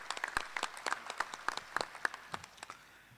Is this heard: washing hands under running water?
no